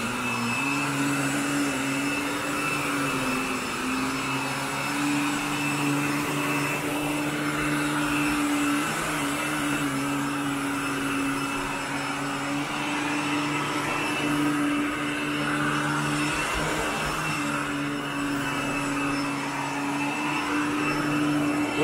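A Royal vacuum cleaner runs steadily while pulling dry soil from bedroom carpet, its loud, constant motor whine holding close and unbroken throughout with no talking.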